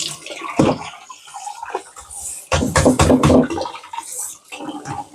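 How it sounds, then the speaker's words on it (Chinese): Water is tipped out of a pot while rinsing dried tofu strips for a cold dish, making close, loud sloshing and splashing gushes in uneven bursts. "好，现在我们换水，把这个水倒掉"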